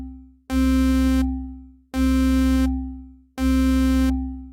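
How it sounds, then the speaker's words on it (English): Single-voice sawtooth synthesizer oscillator playing three identical sustained notes in a regular rhythm, each bright and buzzy with rich harmonics, starting sharply and ending cleanly with short gaps between. "in the first oscillator we'll have a sawtooth waveform with a single voice. So it sounds like this."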